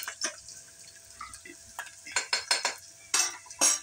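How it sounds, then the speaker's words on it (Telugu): Cloves, cinnamon sticks and bay leaves frying in oil inside a pressure cooker for vegetable biryani, a steady sizzle broken by repeated metallic scrapes and clinks of a ladle stirring against the pot. "లవంగాలు దాల్చిన చెక్క పెద్దలపాయలు అందులో యాడ్ చేసామండి అవి ఫ్రై అవుతనేయండి"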